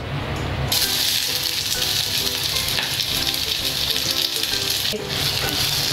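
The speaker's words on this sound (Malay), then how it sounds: "ok masukkan bawang besar dan bawang putih yang telah diiris halus" Finely sliced onions and garlic fry in a little oil in a pot for laksa, giving a continuous close sizzle with some faint stirring clatter.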